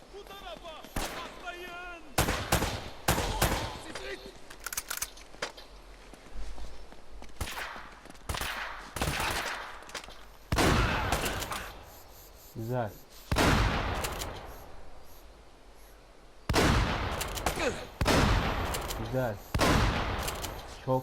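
Gunfire in the video game Uncharted: Drake's Fortune, repeated bursts of loud close shots in clusters with gaps between them, amid game effects and someone talking at times.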